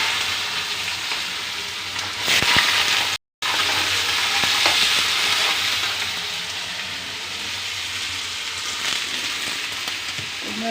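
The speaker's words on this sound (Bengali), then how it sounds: "আলু ভাজা বানাচ্ছি, সকালবেলা নাস্তা আলু ভাজা রুটি।" Potatoes sizzle steadily in a frying pan for breakfast, a loud, continuous close crackle with occasional stirring knocks and a brief total dropout near the middle.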